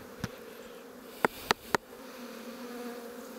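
Honeybees swarm around a condemned hive that is being emptied, making a steady close drone. A few sharp clicks or taps cut through the buzzing.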